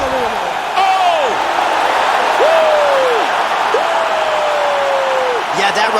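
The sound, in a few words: crowd cheering a knockout in the video game UFC 4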